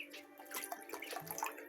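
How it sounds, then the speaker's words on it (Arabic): Water is poured for young chicks on their ninth day, giving a steady light splashing and trickling stream close by, with no talk over it. "هنزود لهم الميه."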